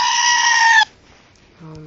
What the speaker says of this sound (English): The screaming goat.